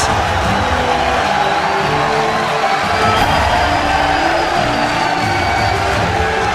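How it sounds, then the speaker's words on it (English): Arena crowd at the 2014 NA LCS Summer semifinal esports match giving a standing ovation after Team Solo Mid's game 5 win over LMQ, a dense, steady roar of cheering and applause with whoops throughout. "Standing ovation from the majority of the crowd here."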